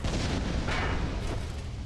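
A Silksong boss-fight explosion makes a dense, roaring blast that fills the whole clip as a sustained, loud rumble with a brief brighter burst partway through.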